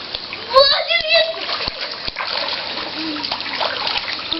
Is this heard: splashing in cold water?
yes